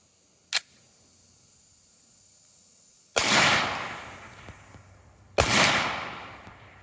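Three sharp pistol shots fired with a deliberately loose, limp-wrist grip, the first a brief crack and the next two louder, longer blasts spaced about two seconds apart, each with a ringing decay, and no talking.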